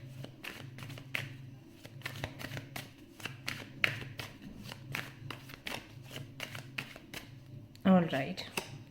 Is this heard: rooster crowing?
no